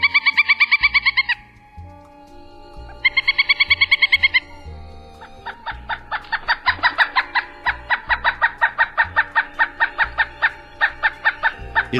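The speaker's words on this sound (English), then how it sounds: "The call sound of the pileated is similar to that of a smaller woodpecker, the northern flicker." A pileated woodpecker calling: loud, close series of rapid, ringing repeated notes in bursts, first two short volleys then a longer accelerating run of wild, laughing cries over a faint low rhythmic background.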